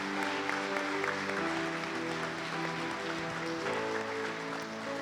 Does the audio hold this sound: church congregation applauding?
yes